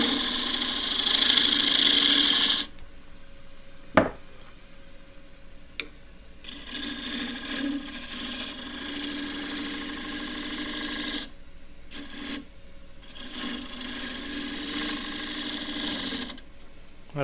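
A wood lathe turns a square dish while a half-inch spindle gouge cuts, giving a steady scraping, rasping drone that runs almost unbroken at close range, with a brief louder whine at the start and a sharp knock early on.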